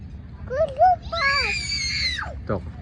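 Someone shouts and squeals close by in a series of rising and falling vocal cries, with a low steady background rumble during heavy rain.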